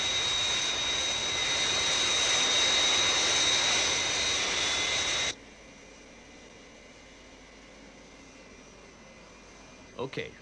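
Cartoon aircraft from Thunderbirds Are Go, just taken off for Tokyo, roars steadily with a loud jet-engine whine, then cuts abruptly to a quiet cabin hum with a couple of faint knocks at the end.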